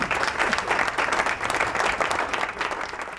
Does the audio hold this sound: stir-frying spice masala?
no